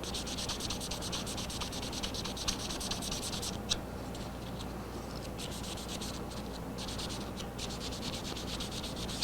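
Fingers scrub the finish of a Martin 00-style acoustic guitar in a workshop, a continuous dry rubbing with quick repeated strokes and a couple of small knocks.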